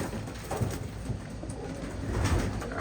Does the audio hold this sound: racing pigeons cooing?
yes